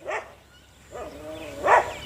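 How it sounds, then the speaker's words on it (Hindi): Dog barking in three short, separate yelps spaced about three-quarters of a second apart, moderately close but not loud, with faint background noise between them. "ये देखें भौंक रहे हैं, देख रहे हैं, आवाज़ आ रही है"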